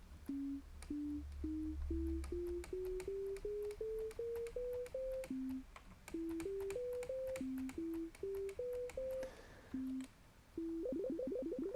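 A synthesizer plays short repeated tones in rising stepwise scale runs, each phrase climbing then resetting, with a rapid flutter of repeated notes near the end as the held key's key repeat kicks in.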